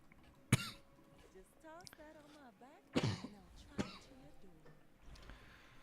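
Several sharp, close coughs and throat-clearing from a man streaming a game, two strong bursts at the start and middle with a smaller one after, with quiet murmured sounds between.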